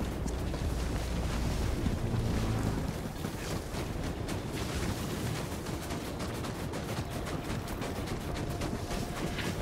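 Wind gusting across an outdoor battlefield in Helldivers 2, a steady, fairly faint rushing blow with a deeper rumbling swell during the first few seconds before it settles into an even hiss.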